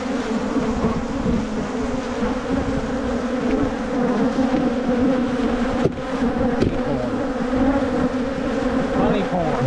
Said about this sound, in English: This is how you piss off the bees.